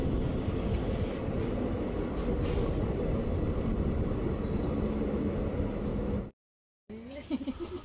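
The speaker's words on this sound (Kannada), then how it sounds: "ಮರಿಯಮ್ಮನಹಳ್ಳಿ ರೈಲ್ವೆ ಸ್ಟೇಷನ್ಗೆ ನಮ್ಮ ಟ್ರೈನ್ ಎಂಟ್ರಿ ಆಗ್ತಿದೆ" A train pulls into Mariyammanahalli railway station on the Hospet to Davanagere route, steady rumble and rolling wheels with high squeals over it, then a brief cutout and faint voices at the end.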